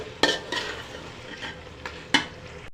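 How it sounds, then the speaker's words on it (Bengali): Beef being stirred with spices as it fries in a pot for a Bengali beef and jackfruit seed curry: a steady sizzle with several sharp scraping stirs and clinks of a utensil against the pot, close by, no talk. "মাংসগুলো ভালোভাবে নেড়ে চেড়ে মিশিয়ে দিলাম মশলার সাথে।"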